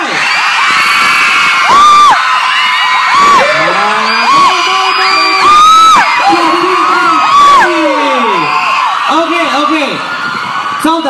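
Fans screaming at a K-pop fan meeting in Singapore for the group B.A.P, a loud, sustained crowd of high-pitched shrieks and whoops rising in repeated swells, with an amplified voice talking over them.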